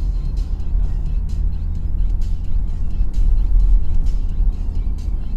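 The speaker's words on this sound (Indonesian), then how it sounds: "Jadi untuk plat kuning truk-truk yang lewat di sini." Yellow-plated trucks pass on a bypass road near Payakumbuh in West Sumatra, giving a continuous loud, low engine and tyre rumble with faint hiss, close by and without voices.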